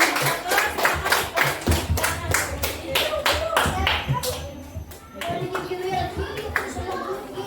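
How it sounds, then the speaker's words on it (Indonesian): A classroom of children claps in a rough rhythmic pattern for a student group, distinct close handclaps in bursts with a short pause, while kids' voices chatter underneath. "tepuk tangan untuk kelompok 1"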